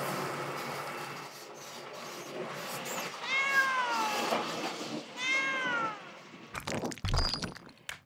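Cats in an emptied redevelopment neighborhood in Janghang-dong, Ilsan, South Korea meow several times, drawn-out, wavering cries close by, with rustling and scraping noises around them and a louder clatter near the end.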